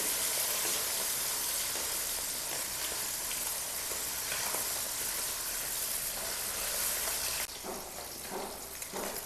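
Pieces of bata fish frying in hot oil in a pan as they are turned one by one, a dense, even sizzle held close up, easing slightly near the end.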